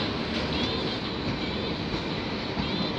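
A freight train of tank cars carrying liquefied petroleum gas rolls past at Bayview Junction with a steady, loud, close rumble of wheels and cars.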